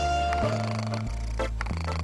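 An autotuned cat meow, pitch-corrected into stepped sung notes over a steady synthetic backing, sustained and loud for about two seconds.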